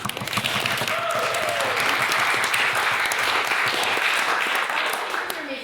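A debate society meeting audience applauds a guest speaker with a full, sustained round of clapping at a steady level, while a few voices carry faintly through the noise.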